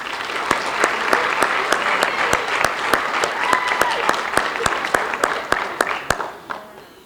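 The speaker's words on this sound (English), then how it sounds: "A nice round of applause for our coaches." An audience at a high school varsity jacket night applauds its coaches, a dense sustained round of clapping with sharp individual claps, fading slightly at the end.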